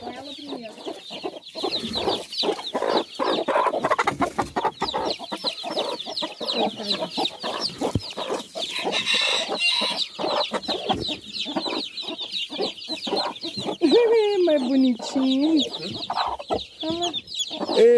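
A free-range hen clucks close by among tiny peeping Garnizé Nagasaki chicks, with continuous high chirps and low rhythmic clucks throughout, building to a louder run of hen calls near the end.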